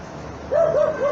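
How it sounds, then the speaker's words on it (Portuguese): Dogs bark in three quick successive barks, moderately distant, following a brief stretch of low background noise with no speech. "E a cachorrada não para de latir."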